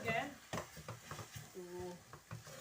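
An egg and milk mixture is stirred in a pan, soft scraping and sloshing strokes close up, with faint sizzling and a brief voice in the background.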